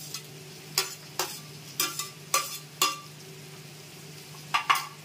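Zucchini, red capsicum, green chili and tomato stirred in a pan, a low sizzle running under repeated scraping strokes that come in irregular bursts, close and moderately loud, with no talking.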